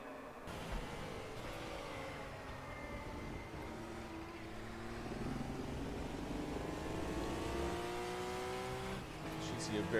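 GTO Classics and Group C endurance race cars held at full throttle through a run of high-speed corners. Steady, loud engine drone slowly climbs in pitch, with a commentator talking over it.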